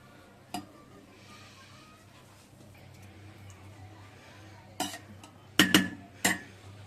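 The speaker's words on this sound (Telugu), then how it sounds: "గట్టిగా కలపకూడదు, కొంచెం ఇట్లా కలుపుకోవాలి." A spoon clinks against a pot while mutton dum biryani is gently mixed: a single knock, then a quiet stretch, then a tight cluster of three or four metallic taps over low background hum.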